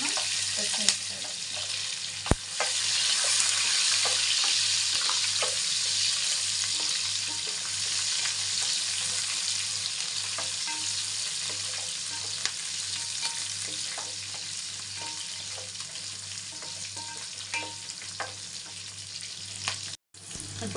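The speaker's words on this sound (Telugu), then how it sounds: "ఇప్పుడు కట్ చేసుకున్న ఆనియన్స్ వేద్దాం, అలాగే కట్ చేసుకున్న పచ్చిమిరపకాయలు." Chopped onions and green chillies fry in hot oil for tomato rice, giving a strong, continuous sizzle that holds steady for about twenty seconds with occasional faint clinks and stirring sounds.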